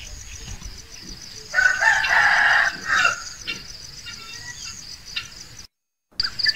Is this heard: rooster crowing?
yes